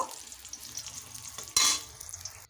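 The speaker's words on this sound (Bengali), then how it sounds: "বেগুনগুলোকে লাল লাল করে ভেজে নেব" Slices of eggplant fry in hot oil until reddish-brown, with a close steady sizzle and soft crackle. One sudden louder burst of spattering hiss comes midway, then the sizzle settles again.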